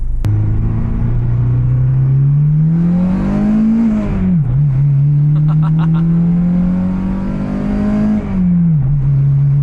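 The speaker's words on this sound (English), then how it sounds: "When this thing hits VTEC, you can really feel it crack." An Acura RSX fitted with a new header revs hard twice into VTEC, each pull rising to a sharp, raspy peak and dropping back, loud and close.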